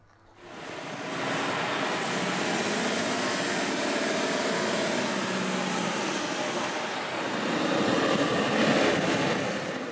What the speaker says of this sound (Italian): Adoro fare le salite con l'Astra HD9 a pieno carico.